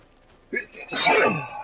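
A single person sneezes nearby, a short sharp intake followed by a louder bursting exhale, in a quiet room.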